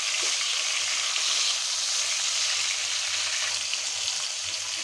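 Hilsa fish head frying in hot oil in a wok, a steady dense sizzle that holds throughout at close range, with faint low stirring bumps beneath and no voices.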